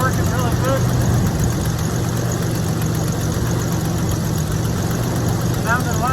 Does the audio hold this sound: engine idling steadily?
yes